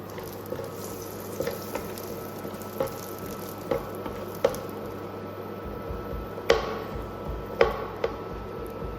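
Cashew nuts roasting in butter in a pan on a stovetop: a low steady sizzle with scattered sharp pops and ticks, a few louder crackles near the end, close and quiet with no talking.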